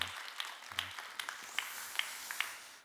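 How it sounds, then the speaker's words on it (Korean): A congregation at an early-morning church service gives a light round of clapping, with a few faint, sparse claps at uneven intervals against a quiet room and soft low background sound. "여러분 박수 한번 해주셔요."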